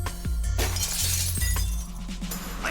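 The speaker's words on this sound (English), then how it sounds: "I shatter a window and dive through it, all in the same motion." A glass window shatters in the Fate/Stay Night Remastered visual novel game, a loud, bright crash of breaking glass over a low game soundtrack, with no voices.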